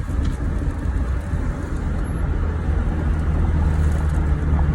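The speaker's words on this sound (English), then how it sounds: "this traffic and people in Miami drive crazy" Steady road traffic in Miami, heard from inside or beside a vehicle as a dense, continuous rumble of car and bus engines and tyre noise, with no talk over it.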